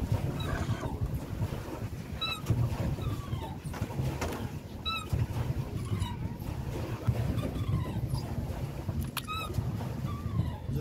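A boat glides across Phewa Lake near Pokhara, with a low, steady rumble and water wash throughout, wind buffeting the microphone, and faint, repeated bird calls chirping in the distance.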